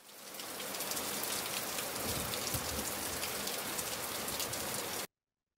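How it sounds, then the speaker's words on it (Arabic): Steady, dense rain sound effect used in an editing lesson, a continuous hiss of rainfall at even loudness for about five seconds, then cutting abruptly to silence. "الآن أنا عندي هذا صوت مطر"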